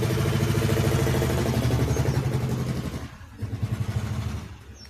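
A motorcycle engine runs close by with a steady, throaty drone that eases off after about three seconds, then pulses in short uneven bursts toward the end. No voices are heard.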